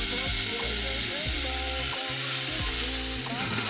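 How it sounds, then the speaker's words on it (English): A burger patty sizzles hard on a hot cooking surface, with loud, continuous frying crackle and hiss that runs the whole time and is not covered by talk. "Look at that sizzle."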